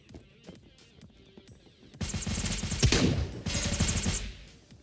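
Gunfire in the tactical shooter Project Delta, dense bursts of rapid shots kicking in at about two seconds and continuing loudly, with sharp cracks over a rumbling low end after a quieter stretch of scattered noises.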